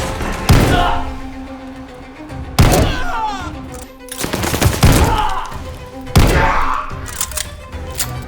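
Weapons firing in Call of Duty Vanguard, with four heavy, booming shots spaced a couple of seconds apart, each trailing into a rumbling decay and mechanical clatter, loud and close.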